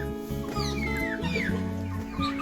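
Several chickens on a poultry farm cluck and murmur close by, with overlapping calls and a few higher squawks over a steady barnyard hum.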